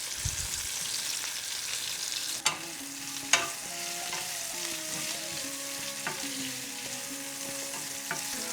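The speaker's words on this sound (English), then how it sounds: "add in the onions, and I'm just going to cook this for 5 minutes" Onions and curry leaves fry in a hot pan with a steady, even sizzle, broken by two sharp utensil knocks and faint scraping as the mixture is stirred.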